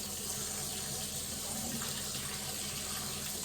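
Water runs steadily from a bathroom sink tap into the basin, a constant close broadband hiss and splash with no breaks, left going to warm up for a flannel.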